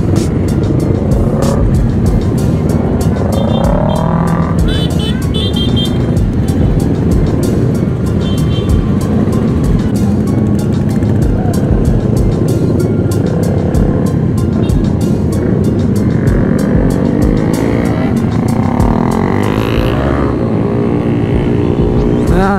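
Busy road in a heavy traffic jam, with a dense, steady roar of nearby car and motorcycle engines and vehicles passing close throughout, loud and with no speech.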